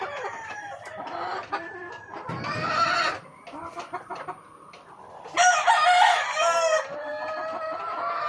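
Kanawayon gamefowl rooster on a farm crowing and clucking, with several loud crows and bursts of clucks separated by short quiet gaps.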